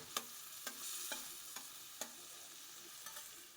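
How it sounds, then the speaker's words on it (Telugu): Grated tomatoes sautéing in butter over medium flame give a soft, steady sizzle, punctuated by a handful of sharp spoon taps and scrapes against the pan, quiet and close. "టమాటోస్ కూడా వేసిన తర్వాత బాగా సాట్ చేయాలి"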